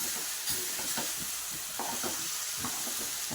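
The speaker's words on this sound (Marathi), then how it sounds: "आता हे चांगलं गुळात परतून घ्यायचं आपण डाळ." Moong dal with jaggery and ghee being stirred and sautéed in a pan for puran, a run of repeated spoon scrapes and thick wet sizzling in an uneven rhythm, close by with no speech.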